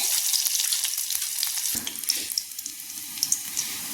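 Panch phoron and a few garlic cloves frying in a little oil in a small kadai, a steady close sizzle with scattered crackles and pops, and a brief clatter midway.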